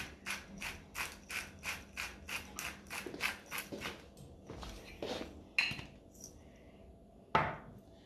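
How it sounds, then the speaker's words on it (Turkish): Salt is ground in a salt mill with a steady run of about a dozen rhythmic ratcheting cranks, close and crisp, then a few slower scattered turns and clicks. "Hemen tuzumuzu da Şöyle çekelim."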